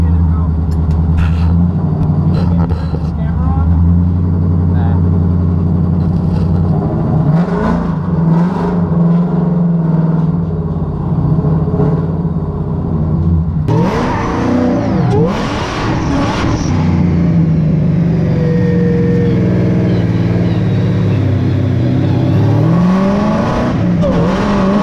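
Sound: supercharged S550 Mustang drift car engine revving

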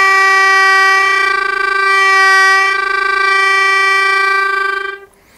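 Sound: Hohner Student melodica played with flutter-tongue technique

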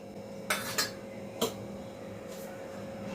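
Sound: rice dough being transferred into a wide pot

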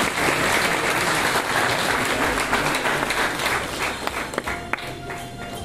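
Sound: audience applause for parents at a graduation

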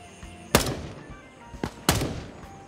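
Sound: shotgun fire in video game Gray Zone Warfare

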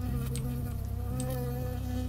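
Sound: bee buzzing in video game Firewatch

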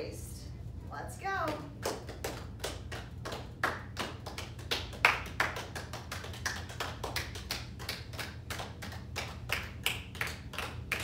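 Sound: children clapping hands

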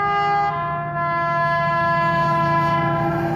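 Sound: Freightliner freight train passing and sounding its one-tone horn

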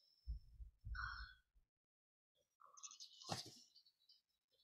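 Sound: heartbeat sound in a video game

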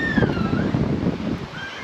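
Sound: ocean waves and wind on a beach at Khao Lak

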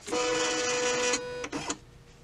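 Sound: embroidery machine carriage moving

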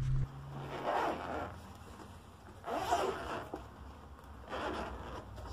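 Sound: cellophane wrapping being taken off a GoPro box

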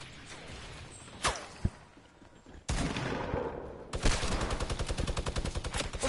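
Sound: minigun firing in a PS4 video game

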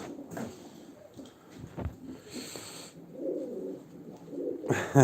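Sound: many birds, pigeons cooing in a loft

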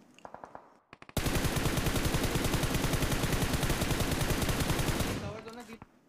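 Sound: shotgun and gunfire in PUBG Mobile video game, Livik

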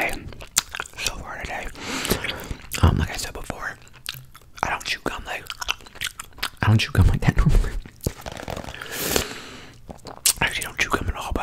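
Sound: gum chewing

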